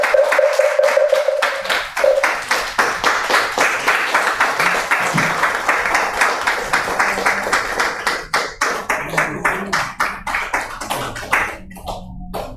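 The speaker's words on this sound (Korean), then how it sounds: "감사의 큰 박수 부탁드리겠습니다" A standing congregation at Jogyesa temple in Seoul gives a big round of applause after a monk's Buddhist sermon, fast rhythmic clapping that begins loud and gradually thins and fades.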